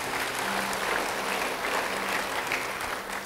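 Church congregation applause during a sermon, a steady, even wash of many hands clapping throughout, moderately distant and without speech.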